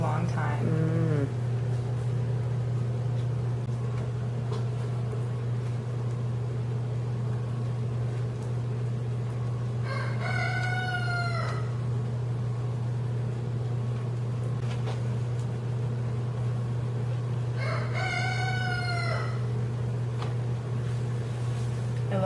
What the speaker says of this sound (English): I love that I hear chickens at work.